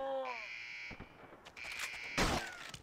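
A harsh buzzing alarm blares in a video game, holding a steady tone before cutting off, followed by loud gunfire bursts and booms.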